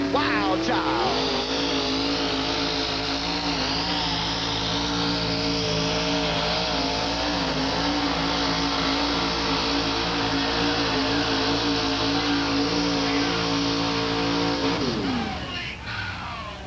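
A monster truck engine roars loud and sustained through a race run at a 1987 USHRA event in Buffalo, its pitch rising and sliding as it revs, then cutting off near the end.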